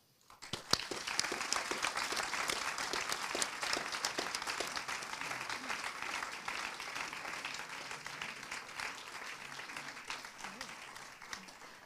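Opening-night audience at a documentary film festival applauds the festival team, a crisp burst of clapping that rises quickly and stays dense for over ten seconds, heard from a distance at modest level.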